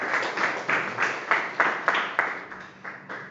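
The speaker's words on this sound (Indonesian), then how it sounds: "Tepuk tangan untuk teman-teman kita ya." A school class claps together in a steady rhythmic beat, with about a dozen evenly spaced group claps in a classroom, close and fairly loud.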